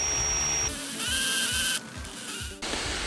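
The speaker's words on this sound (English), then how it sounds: "I'm gonna try and drill it very gently out" A drill whirs in short bursts while drilling out a damaged screw, its pitch shifting as it starts and stops, close up with no talking.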